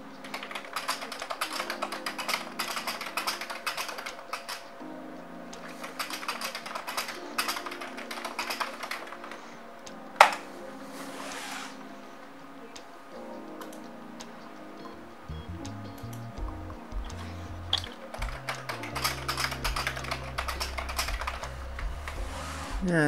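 Keys clatter on a Commodore 64 keyboard while text is entered in the GEOS desktop system, a steady stream of close clicks with one sharp louder tap midway, joined by low electronic background music in the final stretch.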